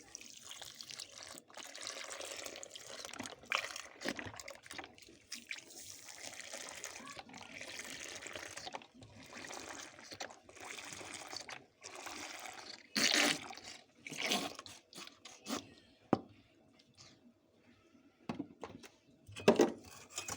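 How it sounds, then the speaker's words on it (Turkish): Milk poured into a cocoa semolina dessert mixture, heard as a faint, continuous liquid pouring and splashing at close range, with occasional drips and small knocks and no talk. "Bir kilo da süt ilave ediyoruz."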